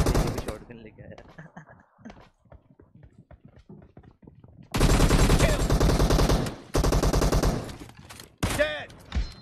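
Shotgun blasts and automatic gunfire in a mobile shooter video game, loud sustained bursts in the second half after a stretch of talking and softer game sounds, with voices and game callouts mixed in.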